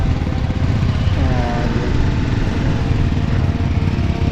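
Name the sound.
motorcycles riding on mountain road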